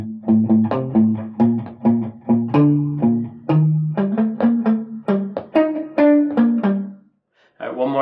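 Electric guitar playing a Locrian mode lick in one position, a sequence of quick plucked notes in steady rhythm, close and clear, ending on a sustained note after a short pause.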